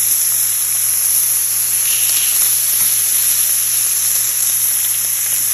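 Homemade English-style back bacon, thickly sliced and spiced, frying in a pan straight from the air fryer, a loud steady sizzle and hiss held close throughout with a constant hum beneath.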